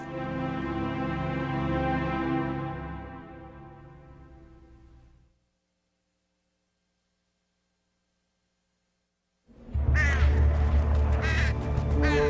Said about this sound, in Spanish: Pájaros de mal agüero se posaron sobre el Capitolio